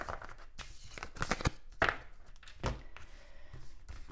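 Cards being pulled from a deck, heard as close, soft papery slides and crisp snaps with a few louder flicks and taps spread over a few seconds.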